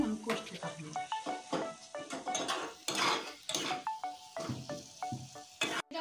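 A spice paste for a potato and egg curry is fried and stirred in a pan, with repeated close metallic scrapes and clinks of a spoon against the pan over a soft sizzle, in an irregular rhythm.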